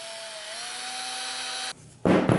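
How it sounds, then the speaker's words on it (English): A small power drill widens a hole to take a thick 14-gauge wire for a Pinecil battery-powered soldering iron upgrade, a steady whining motor hum that breaks off and then returns as a louder, rougher burst of cutting. "we're going to have to drill the hole out just a little bit"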